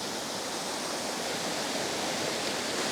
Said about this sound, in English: Here is our first waterfall for the day.